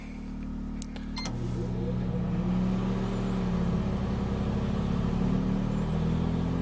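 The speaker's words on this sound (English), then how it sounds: "the generator did crank up a little bit, not much" A Yamaha inverter generator powering a microwave in an RV camper drones steadily with a low, humming engine tone that swells slightly as the load comes on, staying close and constant throughout.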